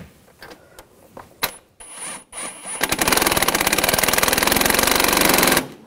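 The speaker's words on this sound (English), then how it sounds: "Now just try to tighten these down evenly" Tightening bolts on a 2004-2009 Audi A4 Quattro CV axle: a few scattered clicks and knocks, then a loud, rapid rattling burst from a power tool running close for about three seconds.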